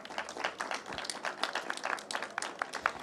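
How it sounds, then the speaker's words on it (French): Audience applause at an evening opening event for a science talk, a modest crowd clapping steadily and fairly softly for a few seconds. "Je pense qu'on peut l'applaudir"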